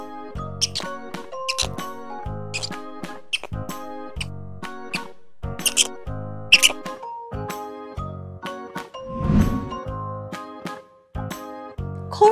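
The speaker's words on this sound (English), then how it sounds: "Indian palm squirrel." An Indian palm squirrel calling: a series of sharp, high, repeated chirps in quick bursts over light tinkling background music.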